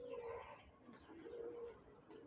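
Pigeons cooing indoors in a roost, soft low repeated coos in a slow rhythm, faint and nearby, with no talking.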